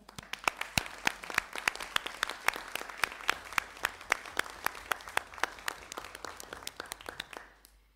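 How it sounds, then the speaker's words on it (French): Members of a municipal council applaud after an election vote at their meeting. The clapping is fairly quiet and somewhat sparse, with distinct individual claps spread across several seconds before tapering off. "Je crois que vous pouvez vous applaudir."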